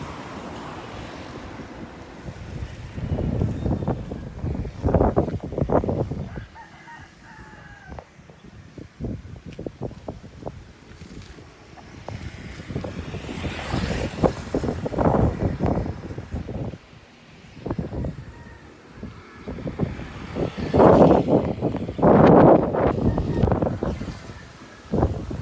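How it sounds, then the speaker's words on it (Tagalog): Strong gusts from Tropical Storm Pepito in the Bicol Region batter the microphone outdoors, roaring in waves that swell and ease repeatedly, loud and close throughout. "malakas na yung hangin"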